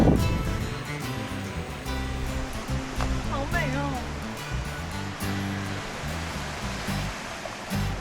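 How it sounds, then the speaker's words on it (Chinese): Broad, steady wash of sea surf along the Cinque Terre coastline in Italy, heard outdoors as a continuous roar beneath a voice talking over it throughout. "听着后面的海浪声"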